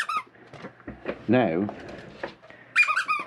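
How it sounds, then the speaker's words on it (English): A squeaky lion-headed dog toy squeals in a sharp, wavering burst, then squeaks again shortly after, close by, with a person speaking at the start. "now we found the squeak"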